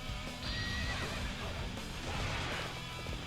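A horse whinnies loudly over steady clip-clopping hooves and busy game-like background noise in Dynasty Warriors 7 on PS3.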